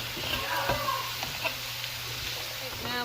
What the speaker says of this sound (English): We're going to saute that for like just for a couple of seconds.